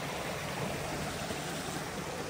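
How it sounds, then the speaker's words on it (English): A flowing mountain creek on the Appalachian Trail in the Smokies rushes steadily, a close, continuous broadband wash of water with no voices. "Nice to be back into some springs, and some creeks, and streams."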